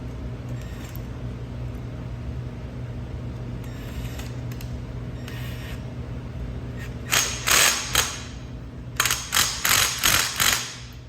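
Bolt tightened with a ratchet on a Smitty sled frame, heard as quick bursts of metallic clicking in two runs in the second half, close up, over a steady low background hum.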